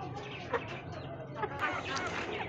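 White bantam chickens on a hen farm in Multan clucking close by, with soft irregular clucks and a few sharper calls throughout, a voice talking under the birds.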